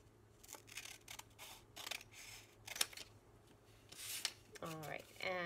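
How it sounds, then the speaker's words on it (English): Scissors snip through paper while homemade flashcards are cut, a series of close crisp cuts with short pauses between them. A voice comes in briefly at the end. "And now I'm going to cut."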